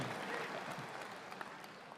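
Applause from an audience at a speech, heard as a played recording: dense, steady clapping from a crowd, fairly faint and distant, with a few sharper claps standing out.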